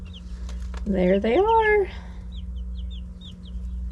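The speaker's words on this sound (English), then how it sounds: "Hey, chickens. They are under the brooder." Young chickens huddled under a brooder give soft chirps and clucks over a steady low hum, with a person speaking briefly in between and a scatter of faint peeps afterward.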